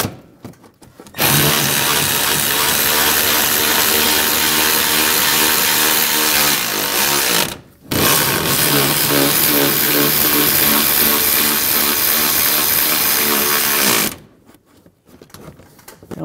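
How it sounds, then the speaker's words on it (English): An impact or power tool runs hard, tightening the upper bolts on a 2011-2018 Ram 1500 leveling kit: two long loud continuous buzzing runs with a brief stop between them, close by, no talk. "We're going to tighten the bolts down up top."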